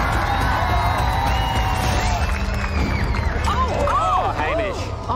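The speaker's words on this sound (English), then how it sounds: "The bloodthirsty crowd bloody loved it." A crowd at a medieval knights' weapon fight during Kryal Castle's Festival of Magic cheers and whoops loudly, a steady roar of many voices with excited shouts rising near the end.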